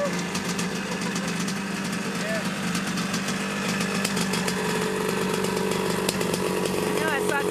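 Dirt bike engines, including modern Husqvarna 250 and Yamaha 125 motorcycles, idle and rev at an off-road riders' event, making a buzzy, raspy two-stroke drone that rises in short bursts, with people talking over it.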